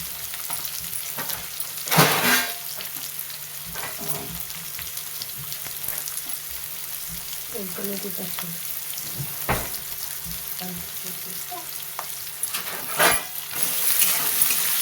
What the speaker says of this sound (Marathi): लसूण लाल झालंय कांदा पण चांगला परतून घ्यायचा लसूण कांदा तांबूस होईपर्यंत